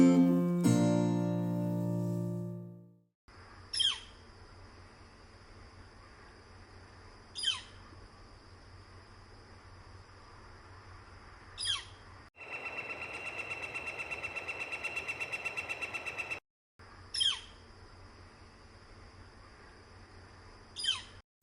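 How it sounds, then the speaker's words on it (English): A female northern flicker in a backyard gives sharp, single calls every few seconds, with a longer buzzy stretch in the middle, over a quiet background. "This is a female northern flicker."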